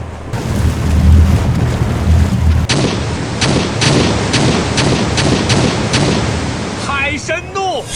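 Fireworks and explosions burst over water in a period drama: a rumbling roar gives way to a run of sharp, evenly spaced booms and cracks, with a brief vocal cry near the end.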